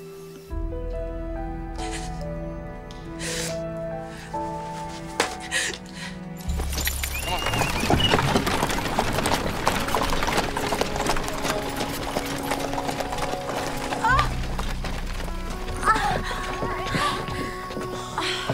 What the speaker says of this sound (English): She rode off on that crazy horse I bought for her.